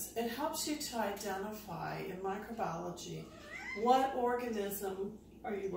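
A pet cat meows repeatedly in a home, its drawn-out wavering cries overlapping a person's steady speech and fairly prominent in the mix.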